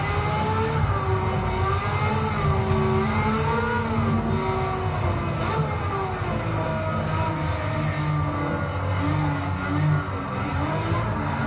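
Tuned car engine in Gran Turismo 7 driven around Grand Valley, a steady loud drone whose pitch rises and falls with revving and gear changes, continuous throughout, with no talking.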